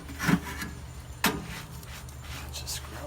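Scrubbing the heat deflector plate of a Kamado Joe grill: two short rasping scrub strokes, close and moderately loud, with quieter rubbing between them.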